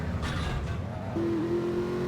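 A car engine revs in Grand Theft Auto 3, a steady motor drone with a rising whine, then a sustained high tone near the end, all under continuous game noise and without talking.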